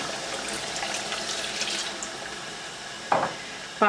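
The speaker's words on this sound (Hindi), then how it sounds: "अब यहाँ पर आप ला करके ऐड करेंगे इसमें पानी" Water poured from a vessel into chicken korma masala in a cooking pan makes a soft, steady splashing trickle for a few seconds, ending in two brief louder splashes.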